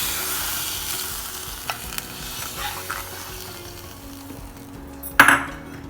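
Hot tempering is poured into tomato rasam and stirred in, giving a steady close sizzle and hiss with a few faint knocks and ending on a sharp clatter.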